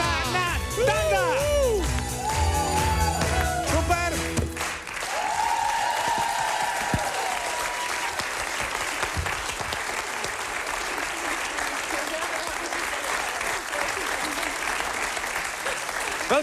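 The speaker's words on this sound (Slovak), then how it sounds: "Veľký potlesk Adriane!" Steady, sustained applause fills a room for a woman named Adriana, following a short burst of music, and continues evenly at moderate loudness to the end.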